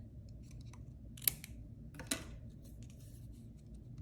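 Scissors snip a paper embellishment for a scrapbook layout, two quiet close cuts about a second apart over a low hum in an otherwise still room.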